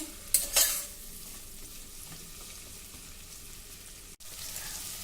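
Chopped pumpkin sautéing in butter gives a low, steady sizzle, opened by two quick sharp clatters of a spoon against the pan, then a quiet, even frying hiss close by with no speech.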